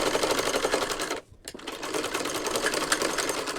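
Sewing machine stitching fabric in a rapid, steady whirring chatter, close and loud, briefly pausing for a moment before resuming its even rhythm.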